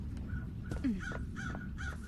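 Crows in the video game Paradise Killer give a series of repeated harsh caws, several calls spaced across the moment, over a soft low ambient hum.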